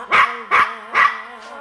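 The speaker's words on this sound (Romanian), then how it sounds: "Dacă tot e un cățel talentat, Funtic nu cântă orice, are și el preferințe" A dog sings along with a song, giving three evenly spaced loud, tonal howling barks with a fainter fourth at the end, up close and alone.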